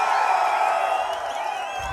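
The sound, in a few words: political rally crowd cheering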